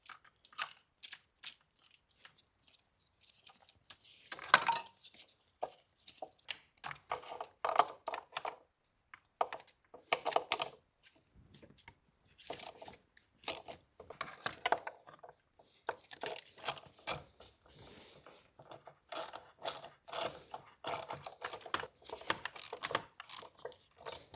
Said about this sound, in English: the next step is gonna be simply just turning all the glow plugs by hand, just to get into ballpark of the torque spec